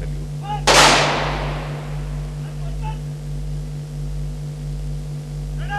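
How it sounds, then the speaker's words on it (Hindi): A single loud gun salute volley fires at a state military cremation for a former President of India, a sharp outdoor crack ringing into a long decaying echo over a steady electrical hum. "military in true honour to the former chief of the armed forces is offering a gun salute"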